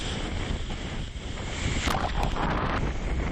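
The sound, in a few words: strong wind and rough sea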